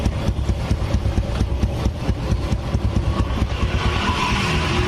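A Yamaha Vega R motorcycle engine runs after a boring and cylinder head rebuild, a loud, steady idle with a fast, even pulsing throb and no voices.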